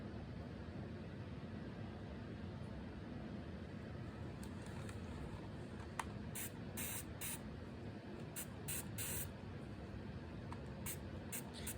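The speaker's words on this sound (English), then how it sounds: "now I'm going to spray her hair and get it fairly wet" A spray bottle mists water onto a doll's curly hair in a series of short, crisp spritzes that come in quick clusters over a quiet, steady room hiss.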